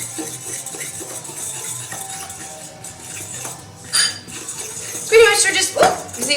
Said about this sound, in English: So then we're just going to give this a good stir.